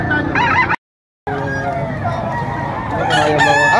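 A rooster crows loudly and close at a gamefowl sale in Padre Garcia, Batangas, with clucks and other fowl calls around it and a short silent break early on.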